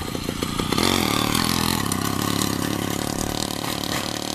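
A custom moped engine runs close by with a few sharp pops at the start, then settles into a dense, steady idle that stays loud throughout, with no speech.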